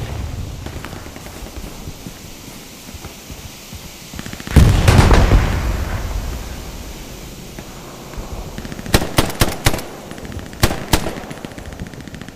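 Gunfire in the World War II shooter Hell Let Loose during a competitive match, with a heavy burst of shots and rumbling around the middle, then a quick cluster of sharp single rifle cracks near the end over steady battlefield ambience.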